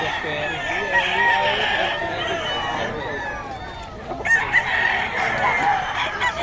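Kanawayon gamefowl, a brass-top spangle rooster, crows amid a busy farmyard with other fowl clucking and someone talking nearby.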